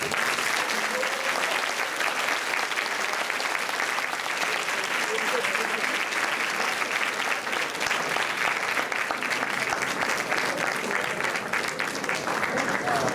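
A large audience at a Japanese charity event for Tohoku claps after an inspiring speech, a thick continuous wash of applause that stays loud and even from start to finish.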